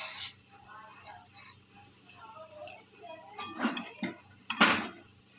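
Kala churma from crushed flatbread with coriander and salt being mixed in a pot, giving scattered clinks and scraping taps of a spoon against metal that grow louder and busier toward the end.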